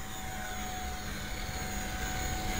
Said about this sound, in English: a video with them flying with the Hyperion batteries using the HPO5s Outrunner brushless motor